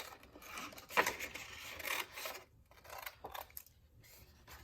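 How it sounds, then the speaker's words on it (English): Scissors snip and rasp through paper in a few quick cuts, close by, with soft rustling of the paper between strokes. "I'm turning my paper more than my scissors."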